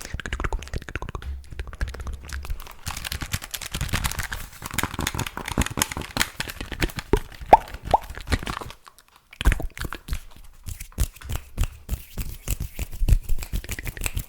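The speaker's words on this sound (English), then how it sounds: "Fast hand sounds." Rapid, busy tapping and brushing of hands close up, a dense flurry of quick soft taps and scratches with a brief pause near the end.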